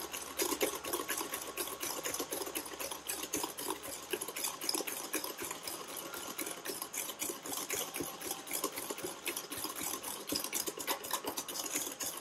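Carrot cake batter being stirred continuously in a bowl, a steady dense scraping and swishing texture with no pauses, fairly close and moderately loud, no voices.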